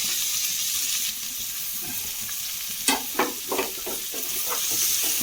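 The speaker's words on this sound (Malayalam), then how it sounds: "അത് നന്നായി ഇളക്കി ഒന്ന് വാട്ടിയെടുക്കാം" Chopped onions, green chillies and curry leaves sauté in a pan with a constant sizzle, and a burst of close spoon stirring and scraping comes through midway.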